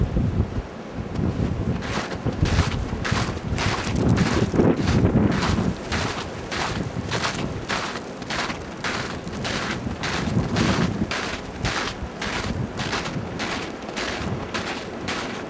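Strong wind buffets the microphone in loud, rumbling gusts that roll on steadily outdoors in a garden beside a pond, with no voices heard.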